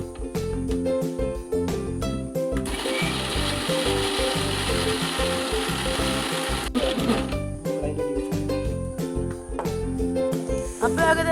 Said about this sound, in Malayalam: ഇതിലേക്ക് ആവശ്യമായിട്ടുള്ള പച്ചമുളക്, വെളുത്തുള്ളി, ഇഞ്ചി എന്നിവ നമുക്ക് അരച്ചെടുക്കാം.